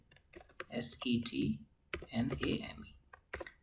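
A computer keyboard being typed on while a MongoDB replica set is configured, with scattered quick clicks that run under a man's speech close to the microphone.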